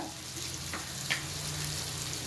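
Onions and tomatoes for prawn thokku sizzle steadily in a pan, a soft continuous frying hiss with a couple of light scraping stirs.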